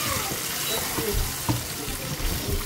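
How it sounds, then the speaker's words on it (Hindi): Pieces of meat fry in hot oil for a layered rice dish, making a constant sizzling hiss. Soft clinks and stirring knocks come through it now and then. "तल लेंगे कोई 5-7 मिनट। इसका रंग लाल लाल हो जाए, सारी बोटियां जो हैं वो ऑयल में तली जाएं"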